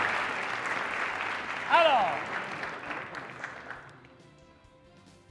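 Applause from the audience at the final of a 2017 youth democracy debate tournament, steady clapping that fades out after about four seconds, with a voice and a whistle-like squeal briefly cutting in.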